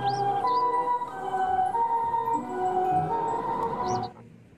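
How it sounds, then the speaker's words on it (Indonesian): A toy ambulance plays a tinny electronic siren, its warbling tones and jingle repeating up close for several seconds before stopping abruptly. "Wow, ada mobil ambulans."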